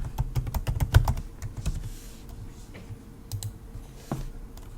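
A password is typed on a computer keyboard during an SSH session to ParrotOS from a Windows 10 PC. A quick cluster of close key clicks is followed by a few sparser taps.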